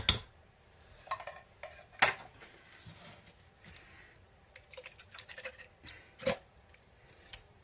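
A spoon stirs chili cheese dog dip ingredients in a pot, giving close, irregular clinks, knocks and scrapes against the metal, with quiet gaps between strokes and no talking.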